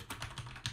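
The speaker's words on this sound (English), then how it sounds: "I'm going to type a few things on my keyboard" Typing on a computer keyboard, captured by a Razer Seiren X microphone running through nVidia RTX Voice: a quick run of soft key clicks over a low, steady background hum.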